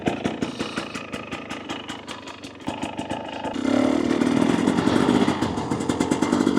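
A 2024 Husqvarna TE250 dirt bike with an FMF Turbine Core 2.1 exhaust idles with a rapid, even putter while warming up, then revs up into a louder, steady drone, close by with no one talking.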